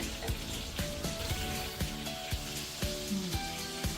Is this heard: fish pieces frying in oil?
yes